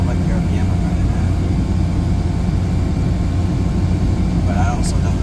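A Toyota Tercel engine drones at high revs in first gear while climbing slowly, a steady loud low hum from inside the car with faint road noise.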